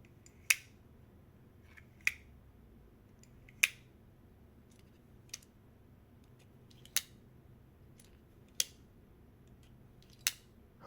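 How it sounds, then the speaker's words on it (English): Parkside and Bosch folding knives with spring-driven buttons repeatedly snap open and shut, giving sharp isolated metallic clicks roughly every one and a half seconds over a quiet background, close and crisp, with no speech. "both are equipped with spring-driven button for folding and unfolding"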